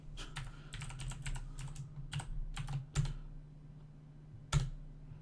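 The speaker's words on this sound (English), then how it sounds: "We type in the password." A password typed on a computer keyboard into a VMware virtual machine: a quick run of close, crisp key taps, then slower isolated presses and a final firmer keystroke over a steady low hum.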